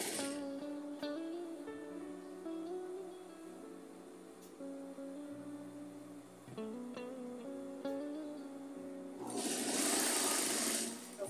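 A sewing machine runs a seam along a fabric-strip rug for beginners, its steady whir starting and stopping in bursts, with a louder, brighter rattling spell near the end and no talking.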